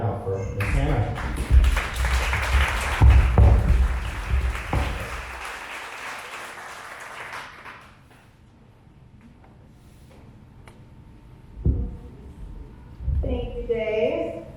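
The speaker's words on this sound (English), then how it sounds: "So please start clapping right now for Ms. Hannah." Audience applause for a speaker at a Juneteenth program, a loud burst of clapping for several seconds that fades out, followed by quiet room tone and the start of speech.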